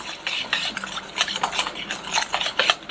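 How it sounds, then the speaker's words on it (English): Pumpkin scone batter, wet and mushy, being whisked in a bowl for gluten-free, dairy-free ginger pumpkin scones, giving a steady run of scraping, rubbing strokes against the bowl with no talk. "so we're going to whisk that together"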